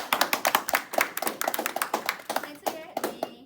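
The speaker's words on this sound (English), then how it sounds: "I want to give a great round of applause to my co-hosts Armani and Makai." A few people clap for two podcast co-hosts at the end of a freshman-year podcast, close and uneven, with sharp separate claps in a loose rhythm and young voices talking over them.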